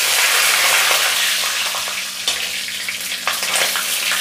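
Mustard seeds and cumin splutter together in hot oil, making a loud, dense crackling sizzle close by, with a few sharper pops near the end.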